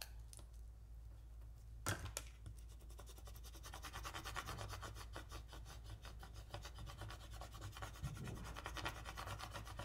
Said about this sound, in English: Now that I'm scraping this